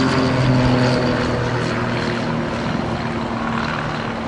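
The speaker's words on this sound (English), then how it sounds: "So the aeroplane is called the Grob Tutor." A Grob Tutor propeller aircraft with a Lycoming 180 hp engine drones loudly at an air show, its steady buzzing engine tone holding close and strong throughout.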